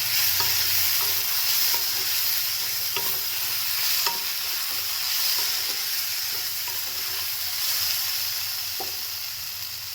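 Green chillies with salt and turmeric sizzle in a hot pan while being stirred, producing a continuous crackle broken by repeated soft scraping strokes, close and even, with no voices.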